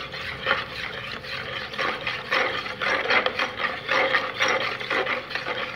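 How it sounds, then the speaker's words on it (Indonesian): A spoon stirs floor cleaner into water for a homemade disinfectant, a steady, close scraping and swishing that continues for several seconds with no talking. "kita aduk-aduk hingga merata."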